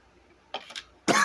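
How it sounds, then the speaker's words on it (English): A person coughing at close range: a short pair of harsh coughs, a brief pause, then a louder, longer cough at the end, with no talk. "I hate it when I get these stupid coughing attacks."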